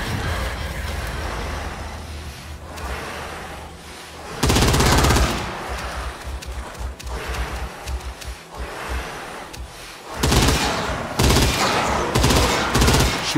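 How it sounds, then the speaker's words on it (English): Rapid automatic gunfire in a video game, fired through cracks in bodywork amid an anomaly-filled area, arriving in loud dense bursts separated by quieter stretches of game ambience. "Shooting through the cracks works."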